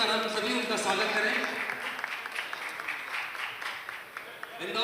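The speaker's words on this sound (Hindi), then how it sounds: "मैं चाहता हूं जोरदार तालियों के साथ में एक बार हम सभी उनका स्वागत करें।" An audience at a stage event in Indore applauds to welcome a singer, a dense wash of clapping under a man's amplified speech that rises and then gradually thins out.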